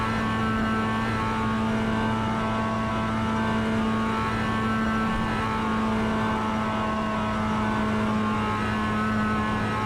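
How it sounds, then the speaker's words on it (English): A Mazda MX-5 race car engine in iRacing held at full throttle in fourth gear, a loud steady buzzing drone with strong even harmonics that stay constant and close throughout, with no talking. "Flat out in 4th gear all the way through here."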